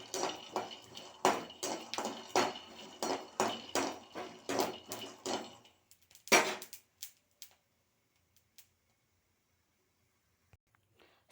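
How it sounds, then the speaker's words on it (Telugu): Peanuts are stirred in a pan while roasting, giving a run of regular sharp scraping clacks from a spoon against metal, then a few scattered taps before quiet. "బాగా దోరగా వేయించుకోవాలి పల్లీలు"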